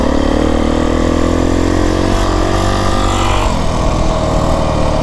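A Beta 350RR X-Pro dirt bike engine runs loud and steady while riding trails in the Santa Rita mountains, with a dense, continuous drone that shifts pitch partway through as the throttle changes.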